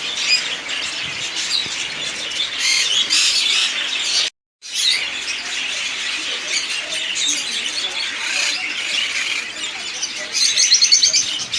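Busy, steady chatter of many budgerigars chirping and warbling together at close range in a pet shop, broken by one short pause.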